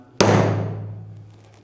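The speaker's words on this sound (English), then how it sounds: "I take the hammer, give it a bam." A single sharp hammer blow on a broaching tool drives a Clinsert into place, a loud close metallic bang that rings and slowly fades over more than a second, with no talk.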